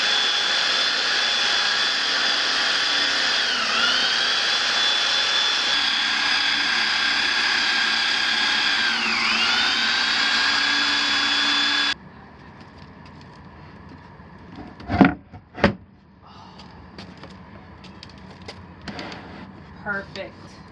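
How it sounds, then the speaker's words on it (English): Power sander working the wooden edges of a tabletop in a GMC campervan conversion, a loud steady whine with pitch dips under load for about twelve seconds, then stopping, followed by a few knocks and quieter sounds. "So I'm going to sand down the edges."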